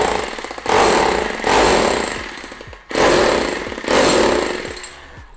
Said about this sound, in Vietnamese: Đục bê tông nghe anh em.